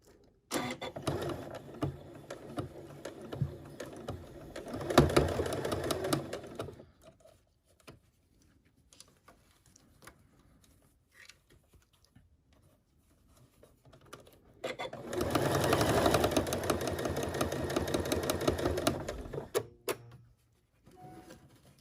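A sewing machine stitches a fabric envelope in two steady whirring runs of a few seconds each, close and fairly loud, with near quiet and small handling noises in between.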